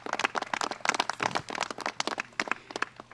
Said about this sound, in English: So let's give the Senator a round of applause and thank him for his leadership.